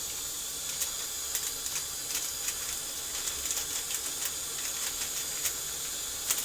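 Water boils steadily in a pot for Thai green curry, a constant hissing with faint popping bubbles ticking through it.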